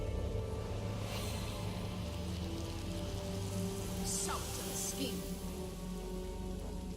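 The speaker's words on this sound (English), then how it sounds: "can't I just wash this away with rain?" Steady rain pours in the Divinity: Original Sin video game, a dense, constant hiss of drops on surfaces with a brief spoken line over it.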